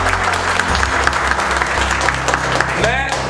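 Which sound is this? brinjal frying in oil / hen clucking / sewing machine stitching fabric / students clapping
students clapping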